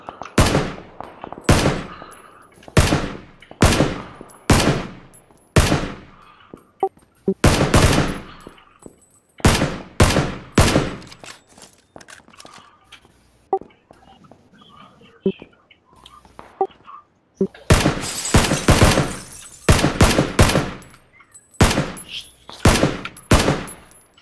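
Gunfire trades back and forth in a PUBG match: loud, rapid bursts of automatic fire and single cracks come in clusters, separated by short lulls, with quiet voices murmuring in between.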